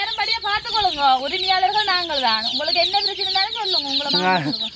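Chickens cluck and call continuously and fairly loudly, with rising and falling tones overlapping throughout, as if several birds are close by.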